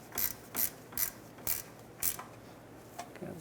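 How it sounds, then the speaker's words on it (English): A hand ratchet clicks in short repeated bursts as it tightens transmission mount bolts on a 2003-2021 Chevrolet Express 3500 van, about six even strokes close by, then a few fainter ones. "making them nice and tight with my ratchet is all I have"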